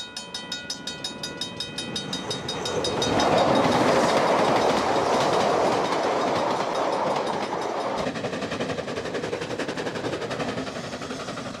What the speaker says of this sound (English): The train now approaches Tamaranui, the major crossing point on the approach to the central plateau.